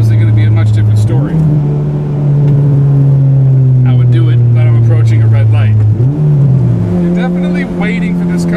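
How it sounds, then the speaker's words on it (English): A Honda Civic engine revs hard after a downshift into second gear, a loud, close, sustained drone that climbs in pitch, with short dips where it shifts, while a person talks over it. "So if I was to downshift into second and go,"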